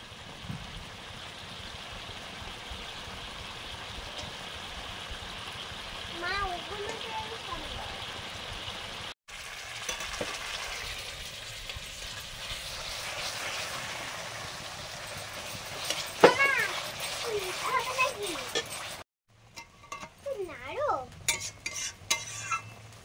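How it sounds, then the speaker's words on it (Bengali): Seeded bananas fry in a kadai with a soft, continuous sizzle and occasional stirring scrapes. The sound stays quiet and close, with brief dropouts along the way. "বীজ কলাগুলো কিছুটা ভাজা হয়েছে, কিছুটা কড়াতে আছে, ভাজা হচ্ছে।"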